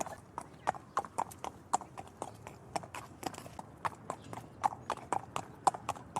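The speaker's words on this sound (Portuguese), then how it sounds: "Só o som de um cavalo avançando lentamente." Slow, steady clip-clop of horse hooves striking hard ground, evenly spaced, close and crisp against a quiet background.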